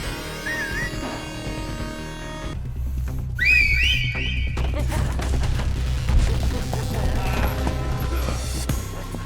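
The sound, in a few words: whistling to summon goons, video game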